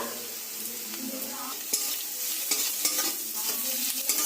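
Onions sizzle in mustard oil while a spatula stirs them with garlic paste, giving close, busy frying hiss with scattered scraping clicks and soft knocks throughout.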